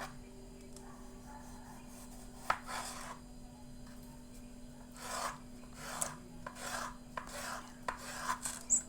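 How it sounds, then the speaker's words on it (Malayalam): A knife cuts potatoes into uniform pieces on a board, producing soft, irregular rasping strokes and light chops, fairly quiet and close with gaps between cuts. "അപ്പോൾ നമ്മൾ എല്ലാ പൊട്ടറ്റയും ഇതേ ഒരു ഷേപ്പിൽ അരിഞ്ഞെടുക്കുകയാണ്"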